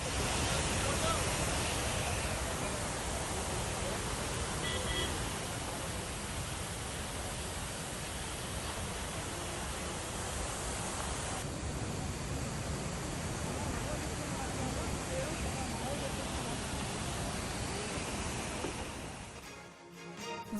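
Fast floodwater rushes over a stretch of the Dehradun–Haridwar national highway in Uttarakhand after heavy rain, a dense, steady roar of churning water filling the whole clip before dropping away at the very end.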